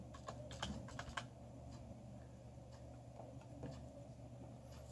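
Keys clack on a computer keyboard in quick, uneven bursts of close, light clicks over a steady low room hum, with no voices.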